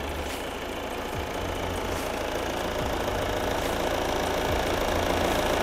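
Volvo XC60 D3 first-generation diesel engine idling with the hood open, a steady, even rumble with a constant low throb, close and alone without talk.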